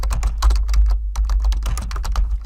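Fingers tap rapidly on a computer keyboard, a dense run of close, crisp keystrokes with one brief pause midway, entering the title of a table in a Word document.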